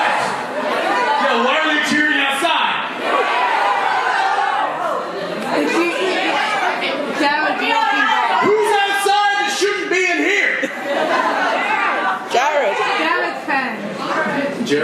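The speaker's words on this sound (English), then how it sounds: "Yo, why are they cheering outside?" A loud crowd outdoors, cheering and shouting steadily with yells and whoops rising through the din, with nearby chatter mixed in throughout.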